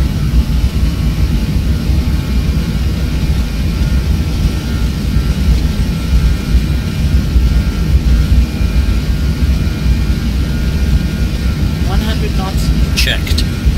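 Aerosoft Airbus A320 jet engines spooled up to takeoff power in a Prepar3D flight simulator, a loud continuous roar with heavy low rumble throughout, brief cockpit sounds near the end.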